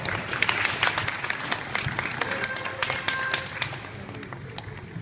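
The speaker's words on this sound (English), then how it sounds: "Now, give yourself a round of applause." Audience members at a disability summit applaud, many hands clapping in a steady, dense patter with scattered sharper claps standing out, held at an even level throughout.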